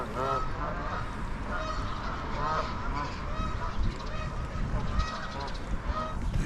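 Geese honk repeatedly by a lake in the Lake District, several birds calling over each other in an irregular chorus, moderately close, with faint background murmur.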